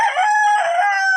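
A fighting rooster in pre-fight conditioning crows once, loud and close, a single sustained call lasting just over a second with no other sound.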